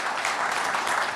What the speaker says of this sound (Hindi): तालियों के साथ उनका स्वागत कीजिए।